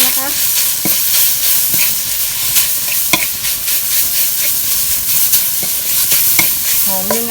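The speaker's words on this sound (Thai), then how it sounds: "ตั้งน้ำมันนะคะ แล้วก็ใส่พริกแกง จะผัดให้หอม" Thai curry paste stir-fried in hot oil, a steady loud sizzle with repeated scrapes and taps of a utensil against the pan, close up and without talk.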